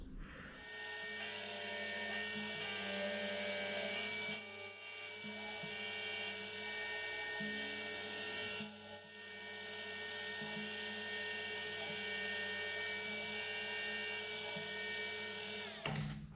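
A metal boring and facing head part is machined, a cut taking about 1.5 mm off its face, the tool's steady high whine holding near and loud with two brief dips, no voices.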